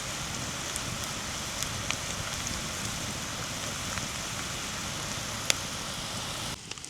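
Onions fry in a pan outdoors, browning toward golden, with a steady dense sizzle and a few sharp pops, and no talk over it.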